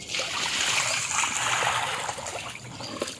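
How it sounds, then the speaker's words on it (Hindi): Water splashes and rushes as it is poured into a container holding a lotus tuber and then tipped out, a continuous close wash of liquid noise with no talking. "इस तरह से हमको इसमें पानी डालना है और फिर इसको पानी को हम पलट देंगे।"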